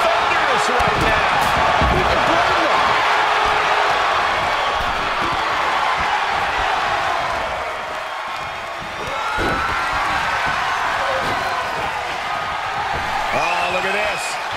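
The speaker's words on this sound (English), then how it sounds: "This crowd is thunderous right now." The crowd in the WWE 2K24 wrestling video game roars with a loud, continuous wash of cheering throughout, dipping briefly midway. A commentator talks over it.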